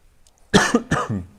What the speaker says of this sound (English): That little pesky cough's just come back.